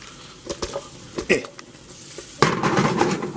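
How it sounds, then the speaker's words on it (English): Pre-cooked green beans being stirred around in a pan in a home kitchen: a few scattered clinks and scrapes of a utensil, then a steady sizzle from midway on, close and fairly quiet. "Stir that around."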